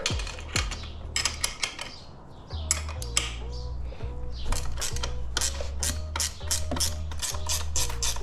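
A ratchet wrench clicks in quick bursts while loosening the 14 mm and 13 mm shock bolts on an SSR125 dirt bike, with sharp metallic ratcheting close up and clanks of tools between passes.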